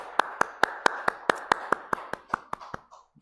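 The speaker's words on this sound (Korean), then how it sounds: "우리 마음을 담아서 한번 박수하도록 하겠습니다." A church congregation claps in unison, about thirteen sharp, evenly spaced claps over three seconds that fade slightly at the end, with no talking.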